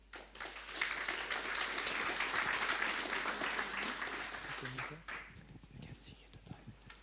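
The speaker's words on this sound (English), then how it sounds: "Please, a big applause." Audience applause at a space resources start-up pitching event, a crowd clapping steadily for about five seconds before it fades, followed by quieter room noise and a voice.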